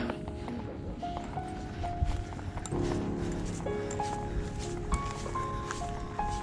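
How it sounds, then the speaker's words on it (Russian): Horse hooves clop faintly on hard ground amid a noisy outdoor bustle, with steady background hum, on a walking route between Hondarribia and San Sebastián, Spain. "Лошадь нам перегородила дорогу."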